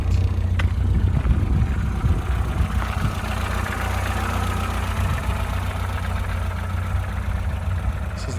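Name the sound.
modified Mini 1275cc engine idling, exhaust sound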